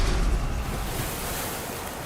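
Ocean waves crash in the video game Limbus Company, a loud wash of surf and wind noise that swells at the start then settles into a steady rushing hiss.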